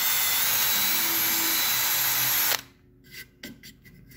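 Power drill boring through a circuit board case clamped in a vise, a loud steady whine for about two and a half seconds that cuts off abruptly, followed by faint handling clatter.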